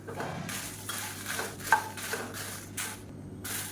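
Dry spices and curry leaves are roasted in a pan while a utensil stirs them, giving soft scraping and rustling strokes in an uneven rhythm, close and fairly quiet over a low hum.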